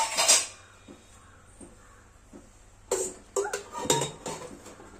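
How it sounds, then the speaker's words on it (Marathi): A small bowl is set down inside a pressure cooker vessel while aluvadi is prepared, giving a few close clinks and knocks of dishware separated by quiet pauses. "आता कुकरच्या भांड्यामध्ये मी वाटी टाकणार आहे।"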